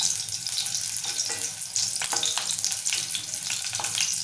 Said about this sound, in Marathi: आपलं तेल छान गरम झालंय, त्यामध्ये आपण सालासकट ठेचलेला लसूण घालूया। थोडासा परतून घेऊया।